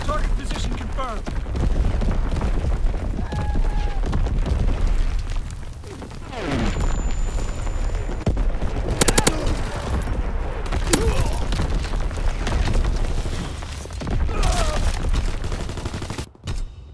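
Dense, continuous artillery barrage from Call of Duty: WWII, with booming explosions and rattling gunfire layered over each other at steady loudness for the whole span, plus brief radio-style voice callouts mixed in.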